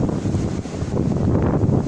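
Strong storm wind roars continuously, buffeting the microphone with a dense low rumble that stays loud throughout with no voice.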